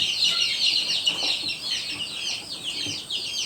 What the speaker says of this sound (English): So this is our random chicken.